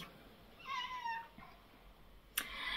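An indignant cat meows over its broken cat tree, one drawn-out falling meow followed by a short fainter call and a brief sharp knock, close but quiet in a still room.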